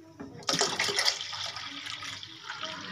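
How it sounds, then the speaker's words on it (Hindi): Water poured from a vessel into kadhi made of lassi and besan in a wok, a sudden splashing gush that settles into a steady trickling flow, close and fairly soft with no talk over it. "अब मैं इतना ही इसके अंदर और पानी जो है वो ऐड करूँगी।"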